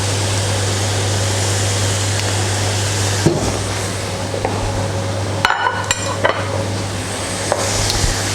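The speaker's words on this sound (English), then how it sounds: "coat all the beef strips in the sauce. Just leave that to cook down another few minutes" Beef strips simmering in sweet chilli sauce in a pan, giving a steady close sizzle and bubbling with a low hum underneath, broken by a few sharp utensil knocks and stirring scrapes toward the end.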